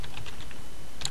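Quick run of computer keyboard typing, several crisp key clicks in a rapid irregular rhythm, close and fairly loud, ending with a sharper click.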